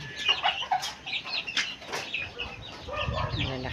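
Chicks penned in a farmyard chirp and cluck continuously at moderate volume, high peeps overlapping with no talk.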